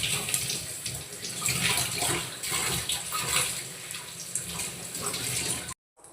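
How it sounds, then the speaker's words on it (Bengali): Tap water runs and splashes steadily while mustard greens are washed, a close, continuous gushing that stops abruptly at the end. "সর্ষের শাকের রেসিপি, তার জন্য দেখো আমি সর্ষের শাকটাকে প্রথমে ধুয়ে নিচ্ছি।"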